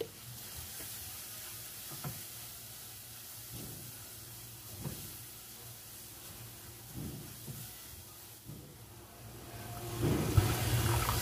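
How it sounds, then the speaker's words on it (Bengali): Chicken with salt, chili and homemade meat spice sizzles softly in a pan with a little water, with light stirring taps at intervals and a louder burst of frying near the end. "একটু পানি দিয়ে আমি মশলাগুলো কষিয়ে নিচ্ছি।"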